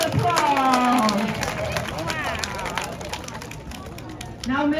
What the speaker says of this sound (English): quite a big round of applause.